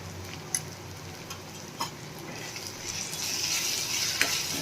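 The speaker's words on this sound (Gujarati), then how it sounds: "મસાલાને મિક્સ કરીને બે મિનિટ આપણે મસાલાને પાકવા દઈશું" Spice masala of coriander-cumin powder and red chili powder sizzling in a pan, a steady frying hiss that grows louder toward the end, with a few light clicks of stirring and no voices.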